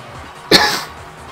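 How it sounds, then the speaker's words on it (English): A single sharp cough bursts out close to the mic, then fades quickly into quiet background. "Pardon the big cough."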